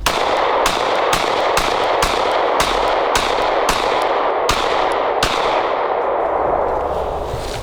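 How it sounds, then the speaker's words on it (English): Rapid string of roughly a dozen pistol shots from a Glock 43X slide mounted on a Glock 48 frame with a 48 magazine, loud and sharp with ringing echoes and no talking. "Let's shoot this thing."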